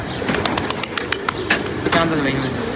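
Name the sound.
pigeons landing and cooing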